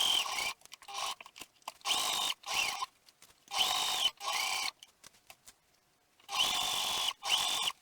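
Home sewing machine stitching the side seams of a shirt, several bursts of fast, whirring stitching separated by short pauses, close and clear with no talk.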